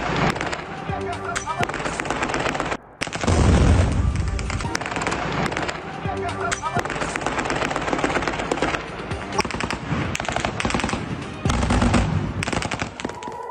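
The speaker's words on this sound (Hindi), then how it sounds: "देखिए जरा इरबिल में अमेरिकी आर्मी बेस पर कैसे हमला हुआ" Sustained heavy gunfire and explosions during an attack on a US army base in Erbil, a dense continuous roar of rapid bursts and booms with a short break, loud and close throughout, with voices mixed in.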